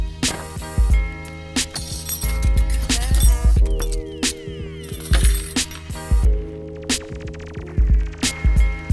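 Metal bonsai tools, including pruning shears, tweezers, a spoon, a metal chopstick and a root rake, clink and clatter as they are picked up and set down, with a steady low hum underneath and no talking.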